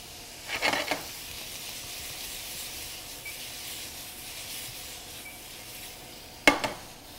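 Already-smoked, fully cooked sausage warms in a pan with a steady, moderate sizzle, broken near the start and the end by short scraping stirs.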